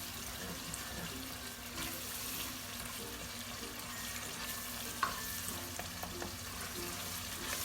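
Jollof rice tomato sauce gets stirred in a frying pan, giving a soft, steady sizzle with light scraping and occasional small clinks, close and fairly quiet, with no talk.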